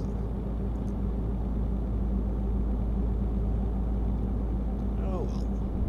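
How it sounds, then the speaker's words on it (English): The small engine of a truck in the Euro Trucking video game strains under load as a steady, heavy low drone. It continues without a break, with someone talking over it. "smallest engine available. This thing is struggling."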